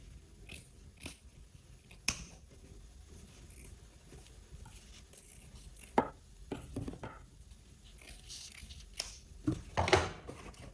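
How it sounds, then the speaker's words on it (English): Scissors snip through fabric while a loose top is being cut, giving scattered crisp cuts and rustles, close and fairly quiet, with a busier cluster of snips near the end. "which is going to be where you can just cut this out"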